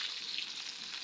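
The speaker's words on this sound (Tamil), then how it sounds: "இப்போ அது கூட பச்சை மிளகாவை சேர்த்து வதக்கி விட்டுக்கொள்ளுங்க" Onion and green chillies sauté in a pan for a Tamil squid thokku, a soft, brief, even sizzle, fairly faint and close, with no talking.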